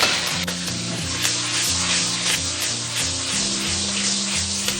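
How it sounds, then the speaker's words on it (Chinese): Mustard green stems stir-fried in a wok with pork belly and soaked dried scallops, giving a loud, dense, continuous sizzle with faint scraping stirs pulsing through it. "先给它翻炒一下"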